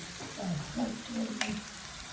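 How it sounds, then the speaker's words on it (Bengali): Onions fry in a pan at home for a chicken dish, giving a steady close sizzle with one sharp clink partway through and no speech. "এখানে দেখো আমি পেঁয়াজটাকে ভাজছি"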